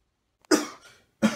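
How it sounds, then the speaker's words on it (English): Two harsh coughs a moment apart, close and fairly loud, with a short rasping tail after the first and silence around them. "Yo, man, you coughing up blood."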